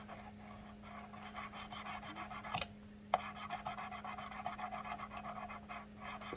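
A knife blade drawn in steady back-and-forth strokes across a 600-grit abrasive on a Work Sharp Precision Adjust sharpener, a rhythmic close rasp with a short pause midway and no talking.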